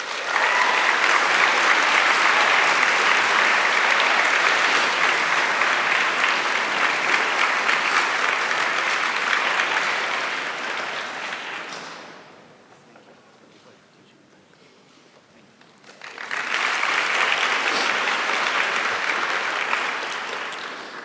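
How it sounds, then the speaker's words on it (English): Audience applause at a 2019 university graduation ceremony, steady and loud for about twelve seconds, then a brief quiet lull before a second burst of clapping swells up and continues. "please give a round of applause to Dr. Andrzej Javian"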